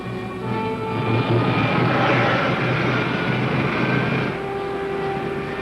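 A sci-fi serial's rocket ship fires its jet engines with a loud, sustained roaring rush that holds steady for several seconds, then drops to a lower, quieter hum near the end.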